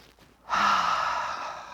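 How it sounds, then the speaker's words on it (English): One deep, full breath during a standing breathing exercise: a quiet pause, then a loud, close, airy rush of breath that holds steady and slowly tapers. "take some good full breaths, energized by the light and the atmosphere around you"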